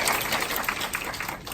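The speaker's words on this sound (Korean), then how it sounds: "억지로 받아낸 박수 감사해요" Applause from a meeting audience, a short stretch of scattered, fairly soft clapping spread through the room.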